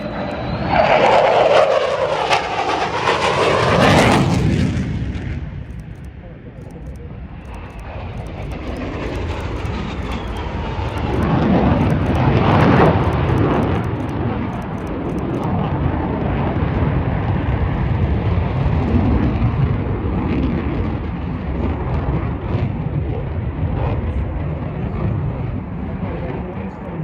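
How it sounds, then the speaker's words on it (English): An F-35 jet flies past at a military air show, a loud roaring rush building and swelling over many seconds, with a sustained engine rumble as it passes and carries on. "it'd be harder for the jets. There's 35 coming in from the"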